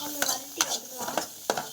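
Coconut being sautéed in a pan, with a low sizzle under repeated scraping strokes of a utensil against the metal, several close, distinct stirs over a short stretch.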